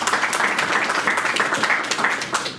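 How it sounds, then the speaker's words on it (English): An audience claps briefly for a panel of speakers, a short, dense burst of mid-volume applause with no speech over it. "let's give them a round of applause"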